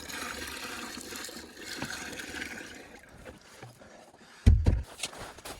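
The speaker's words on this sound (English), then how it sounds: "don't think it matters how many of these buckets I pour." Maple sap is poured from a collection bucket outdoors, heard as faint watery trickling and sloshing amid background noise, ending in a brief louder splash near the end.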